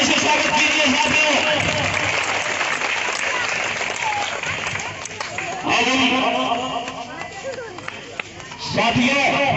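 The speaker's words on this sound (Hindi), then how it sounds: "तालियों से स्वागत कीजिए साथियों।" A crowd at a Nishad Raj idol installation program in Sultanpur, Uttar Pradesh breaks into scattered clapping and applause, swelling in bursts beneath murmuring voices and some talk.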